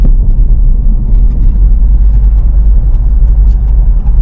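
Road traffic in Clark, Pampanga, with cars and blue taxis going by, heard as a loud, close, low engine rumble that continues throughout without any talk.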